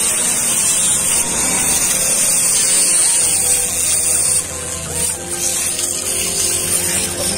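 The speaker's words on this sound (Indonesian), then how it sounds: "kita mau bersihkan pakai kertas gosok, kita putar pakai bor bro" Power drill spinning a sheet of sandpaper to scrub carbon deposits from the engine of a rough-running Suzuki Soul GT 125 in a motorcycle workshop, a steady high whir running throughout, dipping briefly near the end.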